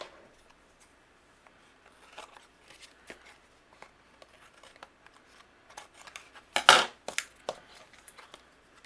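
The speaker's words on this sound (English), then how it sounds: "Now anything that's overhanging, I'm going to flip over and I'm going to trim away." Paper overhanging a shaker card is trimmed away with sharp snips and scrapes, faint and sparse at first, then a louder crunchy cut with a few quick clicks near the end.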